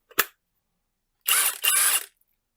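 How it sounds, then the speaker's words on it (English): A battery clicks into a Seesii cordless impact wrench: one short sharp snap, then after a pause a longer two-part ratcheting slide and latch, close and clear in a quiet room. "Let's put the battery in."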